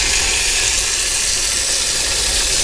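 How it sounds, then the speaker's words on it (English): A steak sizzles loudly and continuously in a hot pan while being cooked outdoors on a lakeside fishing trip, a close, dense, even crackling hiss with no talk. "So put the old steak on."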